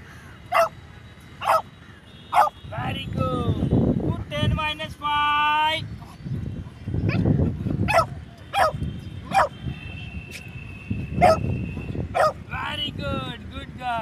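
A dog being trained to count gives short, sharp barks spaced out one at a time, close to the microphone, alternating with a person speaking and some light wind noise.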